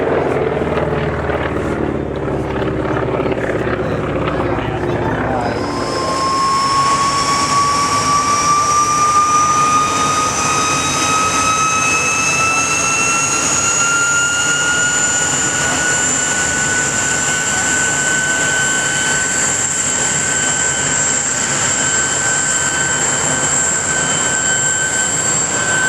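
A WWII-era military aircraft painted in No. 5 Squadron markings runs its engine at the Temora airshow 2009, a loud, steady roar with a rising whine that climbs in pitch and holds as it spools up after a few seconds.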